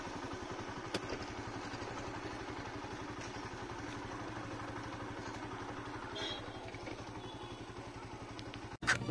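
Motorbike engine running steadily with a mid-pitched drone and clattering texture while riding behind friends on scooters toward a hidden waterfall, continuous and fairly close, with a brief knock near the end.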